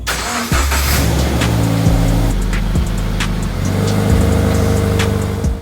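Subaru BRZ engine running as the car is driven out of a garage, a close, loud idle with gentle revs and gear changes audible as shifting tonal steps throughout.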